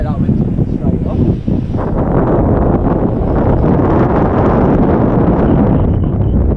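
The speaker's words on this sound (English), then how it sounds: "Feels like that wind's straight up." Strong wind buffeting the microphone outdoors during radio-controlled model jet landing practice, a loud, steady roaring rush that continues throughout with no clear speech.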